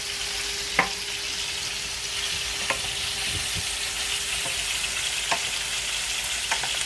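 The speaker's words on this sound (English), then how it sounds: "start sauteing our Brussels sprouts" Brussels sprouts sauté in butter in a pan with a steady, even sizzle throughout and a few faint clicks of a utensil, no voices.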